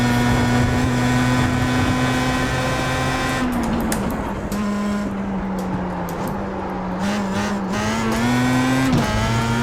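A Pro Mazda race car laps Brands Hatch, its engine droning loud and close, pitch dipping as it lifts off and then climbing again under acceleration.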